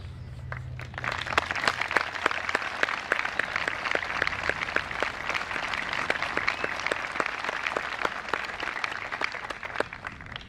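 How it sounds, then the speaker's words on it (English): Sustained applause from a graduation ceremony audience, a dense steady clapping crowd filling the space for about ten seconds with no speech over it. "Please join me again in a round of applause for all these people"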